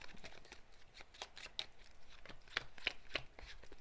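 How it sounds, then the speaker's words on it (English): Small stacks of three playing cards from a Hero Realms campaign being shuffled by hand, quiet papery riffles and soft snaps arriving in a loose, uneven rhythm, close up and faint with no voices. "each individual pile shuffled"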